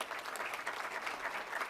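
A graduation ceremony audience claps steadily, moderately distant, a dense patter of many hands with no voices over it.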